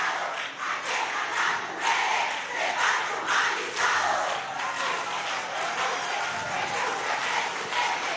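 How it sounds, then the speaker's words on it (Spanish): A crowd applauds and cheers for the women of the humanized childbirth mission at a 2018 government meeting in Venezuela. The sound is a steady, dense roar of clapping and voices that lasts throughout, with no break. "Un aplauso para las mujeres de parto humanizado"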